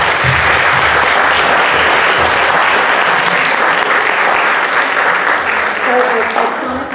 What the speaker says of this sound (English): I think you all deserve a round of applause right from the very beginning.